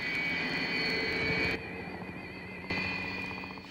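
Russian Sukhoi Su-27 Flanker jet taxiing out to the runway at an air fair, a steady loud turbine whine with high tonal hum that drops briefly in level and then returns, no talk.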